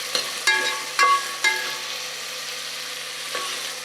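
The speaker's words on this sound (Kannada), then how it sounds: "2 ಬದನೆಕಾಯಿ, ಒಂದು ಆಲೂಗಡ್ಡೆ ಹಾಕ್ಕೊಂಡಿದ್ದೀನಿ. ನೀಟಾಗೆಲ್ಲ ಹುರ್ಕೊಳ್ಳೋಣ." Brinjal and potato fry in a pan with a steady sizzle, broken by several sharp scraping knocks as a spoon stirs them, close and loud with no talking.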